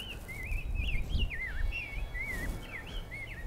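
A bird gives a series of warbling, whistled calls, rising and falling in short phrases over a low rumble of background noise.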